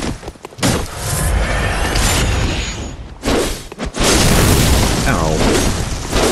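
A loud boom erupts during a rooftop fight in Bloodborne, then heavy rumbling blasts and thuds follow in dense waves with brief gaps between them.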